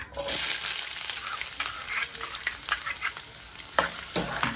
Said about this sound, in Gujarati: 2 મિનિટ માટે ડુંગળી આપણે સાંતળી લીધી છે.